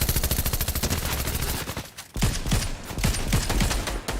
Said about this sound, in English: Oh, getting shot from behind.